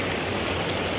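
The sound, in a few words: stream water at a creek crossing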